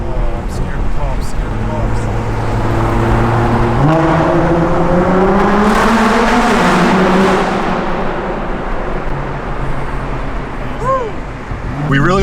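A loud Nissan GT-R engine revs and climbs through the gears in a tunnel, its roar echoing and swelling, with voices talking briefly at the edges.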